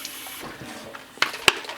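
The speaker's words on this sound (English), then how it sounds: "Then what I do is I add a little bit more water into my," Water poured into a container holding cracked pepper and garlic beef jerky seasoning, a short soft trickle with a couple of sharp splashy clinks near the end, close by and alone.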